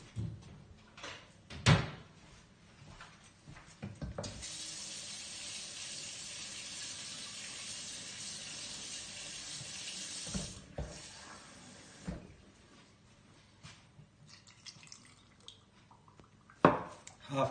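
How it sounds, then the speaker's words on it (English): A kitchen tap runs water into a glass for about six seconds, a steady hissing stream framed by sharp clinks and knocks of glassware and utensils before and after. "some water just from the tap."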